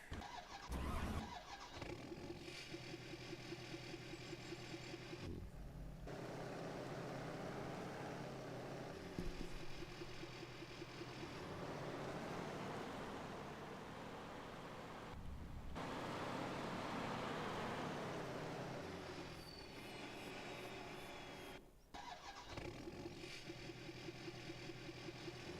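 A truck engine in the video game Farming Simulator 25 cranks, fires up and settles into a loud, steady rumbling idle, with brief pauses and restarts in between.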